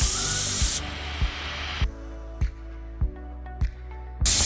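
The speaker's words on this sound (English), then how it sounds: "I'm going to bleed some steam pressure out of this thing." Steam pressure is bled from a boiler fitted with a Watts water feeder, starting as a loud, steady hiss that cuts off, then breaking into several short, sharp bursts before a final strong blast.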